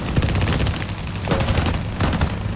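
Rapid machine-gun fire from an enemy aircraft attacking from behind during Spitfire Mk IIa air combat, a loud, continuous rattling stream of shots over engine roar, with no talking.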